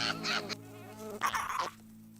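Flies buzz around a beetle in an animated cartoon, two short close bursts of insect whine over a steady low drone.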